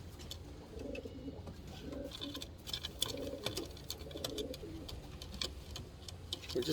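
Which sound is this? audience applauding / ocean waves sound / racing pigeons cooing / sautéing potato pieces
racing pigeons cooing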